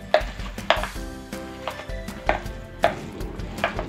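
Chana dal pakora batter with onion is worked by hand in a bowl, giving a series of soft, wet slapping and squelching strokes at an irregular pace, close and fairly loud, with no talk.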